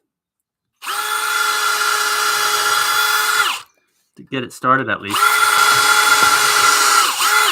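A power drill whines loudly and steadily in a blacksmith shop, stops for a man's brief remark, then runs again at full speed close by.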